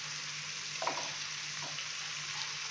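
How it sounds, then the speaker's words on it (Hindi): Chicken fries in a pan with ginger garlic paste, giving a steady, quiet sizzle with a couple of faint stirring scrapes. No one speaks. "तो चिकन को अभी हम तकरीबन 4 से 5 मिनट के लिए फ्राई कर लेंगे"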